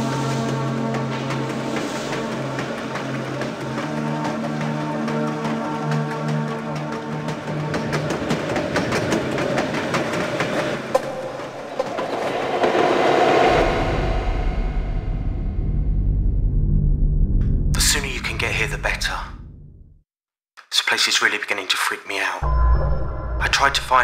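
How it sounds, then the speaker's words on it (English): Train running on rails in the PC adventure game Dark Fall, with a rumbling, clattering run that swells and then fades. Low drones and sparse noises follow, with short gaps of near silence. "you can catch the late train from Paddington to Weymouth"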